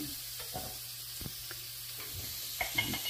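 Breakfast food sizzles quietly in a pan in a home kitchen, a low steady fry with occasional soft clicks and stirring sounds and no talking.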